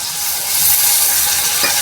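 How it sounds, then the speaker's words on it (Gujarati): Water is poured into a hot pot of chana masala with salt and turmeric, giving a short, loud sizzling hiss that stays steady and close without any talking. "હવે આપણે એમાં થોડુંક પાણી નાખીશું"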